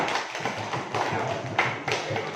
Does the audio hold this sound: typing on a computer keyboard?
no